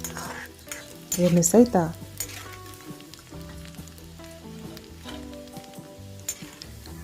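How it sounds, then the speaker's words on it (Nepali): Chopped garlic sizzles in a pan over a medium flame, a steady crackling fry with brief stirring scrapes near the start and a few spoken words over it. "त्यसपछि यो चाहिँ हल्का गोल्डन ब्राउन नहुन्जेल मजाले भुट्नुपर्छ।"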